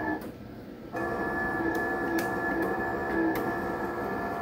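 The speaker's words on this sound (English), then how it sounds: "you could hear that pump change in tone as the vacuum increased off of the intake there" A small electric suction pump in an RC submarine's ballast system runs steadily close by, a sustained whirring hum whose tone shifts slightly as the intake vacuum builds, with faint clicks over it.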